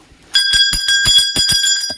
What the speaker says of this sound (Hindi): घंटी बजा लेते हैं